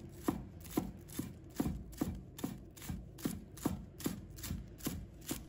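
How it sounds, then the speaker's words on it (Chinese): A knife chops green onions into small rings on a cutting board, about a dozen evenly spaced sharp knocks in a steady rhythm, close and clear with no talk. "把它切成葱花"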